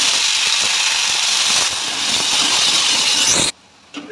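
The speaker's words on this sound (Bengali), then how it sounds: "পেঁয়াজ কুচো দিলাম" Chopped onions hit hot oil seasoned with bay leaf and cumin for khichuri, giving a loud, close, continuous sizzle that cuts off abruptly near the end.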